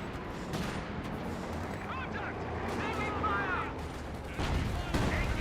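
Gunfire and explosive blasts from a Company of Heroes 2 World War II strategy battle with Grenadiers, conscripts and a Panzer IV, as rattling shots and rumbling hits roll continuously beneath a commentator's talk.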